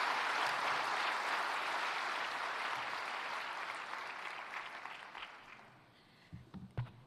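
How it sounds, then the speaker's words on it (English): Large summit audience applauding in a hall, a dense roar of clapping that starts full and gradually thins and fades, ending in a few scattered claps and faint noises. "can we please give one round of applause?"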